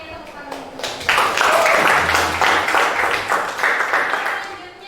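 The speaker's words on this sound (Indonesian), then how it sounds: "Oke, tepuk tangan." Classroom audience bursts into applause after a brief lead-in, a fairly loud, dense clatter of many hands that holds steady for several seconds, with faint voices beneath.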